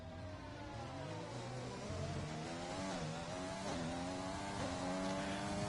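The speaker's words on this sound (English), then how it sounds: "The Honda engine note is probably the one that's the quietest of the 4." A Honda Formula 1 car races in a video game at the Japanese GP, its high-pitched engine whine rising and falling through gear changes, steady and fairly quiet under faint background racing noise.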